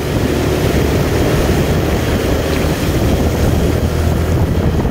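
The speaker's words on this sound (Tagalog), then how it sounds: "Ayan na yung bangka, umaahon." Loud, constant rush of water and churning wake from a boat moving through deep floodwater during heavy rain in Malolos, Bulacan, with heavy wind buffeting the microphone.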